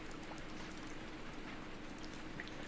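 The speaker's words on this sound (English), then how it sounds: "I heard the sound of rain pattering on the rooftop and the raindrops jumping into puddles." Rain pattering on a rooftop and splashing into puddles in the Higurashi visual novel game, a dense, even patter heard alone for a few seconds.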